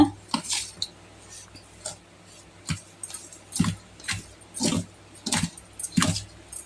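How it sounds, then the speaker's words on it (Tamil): Utensils clinking and scraping against a bowl in irregular bursts, a spoon stirring and mixing with metallic taps and rattles. "போட்டுட்டு நல்லா எல்லாத்தையும் முன்னே கலந்துருங்க"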